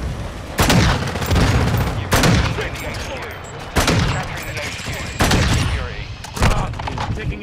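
Call of Duty Modern Warfare gunfire crashes in four heavy, loud bursts of sustained automatic fire spaced a second or two apart, with thuds and booms of battle between them.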